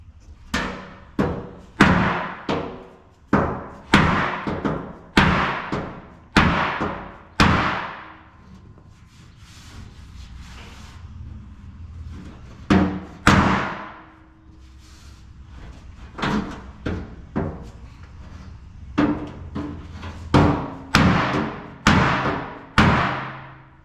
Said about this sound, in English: give this a whack with the rubber hammer